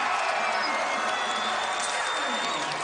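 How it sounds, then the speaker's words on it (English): Crowd noise in a college basketball arena during a Stanford Cardinal game, a steady broadband roar of cheering that holds through the whole moment with faint squeaks and whistling tones above it. "I'm sure you'll hear the crowd."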